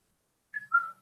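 A short two-note whistle, a rising chirp followed by a longer held tone, made by a human voice imitating a phone's go-live notification from a livestreaming app. It is heard alone and close up.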